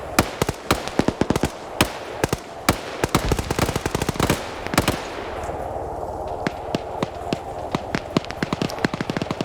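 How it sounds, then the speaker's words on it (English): A .50 cal machine gun fires in a military video game PvP match, loud rapid bursts of shots close by, with a whooshing blast and further scattered gunfire following. "50 cal now firing up into the smoke."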